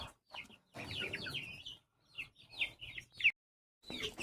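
Chickens clucking and squawking in short bursts as larger hens chase smaller ones, close and fairly quiet with gaps of silence between agitated calls.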